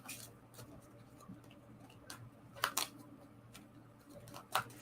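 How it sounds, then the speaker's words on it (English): Oracle cards are shuffled close by, with quiet riffling and a few sharper clicks and slaps among soft handling noise. "So I'm just shuffling the cards, y'all."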